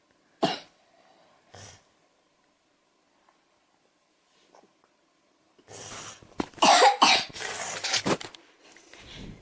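A child gives a sharp cough and a softer second one, then a quiet pause before a burst of several harsh, raspy coughs close by.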